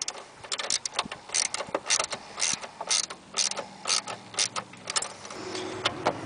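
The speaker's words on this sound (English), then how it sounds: "you want a 7/16 socket and wrench to tighten everything up." A ratchet wrench with a 7/16 socket tightens catch can bolts at close range, giving rapid, rhythmic mechanical clicking in steady bursts.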